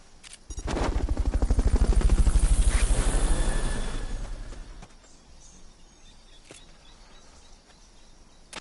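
Helicopter in the video game Metal Gear Solid: Peace Walker, a loud rhythmic rotor chop that swells over the first few seconds and then fades to a quieter hum under steady background game sound.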